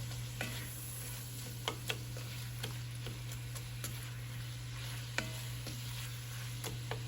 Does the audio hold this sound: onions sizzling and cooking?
yes